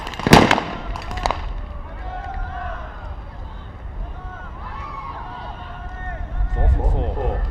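A sniper rifle firing at a SWAT competition, with one sharp loud shot near the start, a fainter report after it, and a commentator talking throughout.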